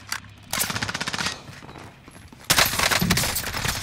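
Rapid bursts of automatic gunfire from a Warzone video game match crackle in two loud, close volleys with a short lull between them.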